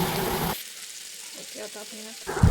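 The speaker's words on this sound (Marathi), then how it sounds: "तेलामध्ये कांदा परतून घ्यायचा कांदा लाल होईपर्यंत व्यवस्थित परतायचा" Chopped onions fry in hot oil in a home kitchen with a loud sizzle at the start, then fall nearly quiet under a faint tonal background before the hiss returns at the end.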